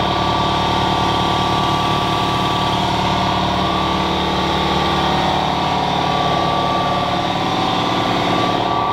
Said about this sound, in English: Waiting on the compressor.